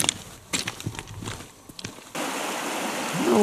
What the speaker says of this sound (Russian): Ну вот вода появляется из-под гальки.